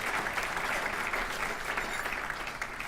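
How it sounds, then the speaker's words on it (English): Sustained audience applause for elected officials at a regional address, dense even clapping from a large room that holds steady for a few seconds. "Give all of the elected officials a big round of applause."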